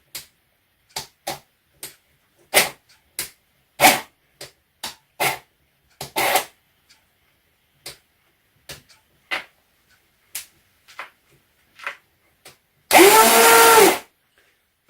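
An airsoft L85 rifle with an upgraded gearbox motor on battery power cycles in a string of short sharp bursts, followed near the end by one longer sustained whirring run, close and fairly loud.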